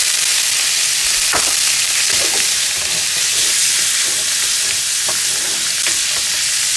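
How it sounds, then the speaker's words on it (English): Young squirrel meat stir-frying in a very hot pan, a loud, steady sizzle and hiss with occasional sharp pops and stirring scrapes, no talking. "I'm gonna throw in the squirrel."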